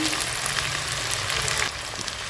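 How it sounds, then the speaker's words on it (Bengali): Cucumber and other vegetables fry in oil in a pan, making a loud, continuous crackling sizzle with no voices over it. "সেই কারণে আমি সবগুলো সবজি ভেজে নিচ্ছি"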